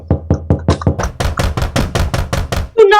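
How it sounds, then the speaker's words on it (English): Loud knocking at a door in a stage play, a rapid series of heavy blows that quickens and grows louder, close and prominent, ending in a brief clatter. "Who knocks so loud at door?"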